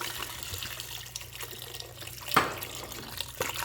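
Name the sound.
pouring red wine and beef broth into vegetables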